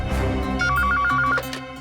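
An electronic telephone ringing with a rapid warbling trill that repeats several times over a background music bed, fairly loud and close, with no one speaking.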